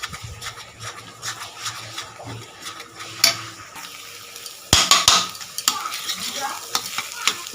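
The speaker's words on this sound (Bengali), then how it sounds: "এই দেখো ডিমটা সুন্দরভাবে ভাজা হয়ে যাচ্ছে এরকম নাড়তে নাড়তে আস্তে আস্তে ভাজা হয়ে যাচ্ছে" Beaten egg frying in a pan next to fried potatoes while a utensil stirs it, a low sizzle broken by repeated scraping and clanking of spatula against metal, close up, no speech.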